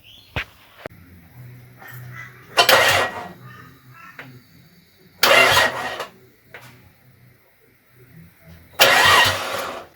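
A Nissan Stagea with a freshly swapped eBay GT35/40 turbo cranks over in three separate bursts without firing, each a loud starter whir lasting about a second, with quiet pauses and faint clinks between them.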